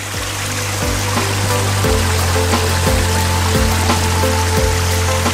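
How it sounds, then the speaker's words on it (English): A creek flows steadily nearby, a constant close rush of water with light trickling and occasional knocks. "Got a creek here."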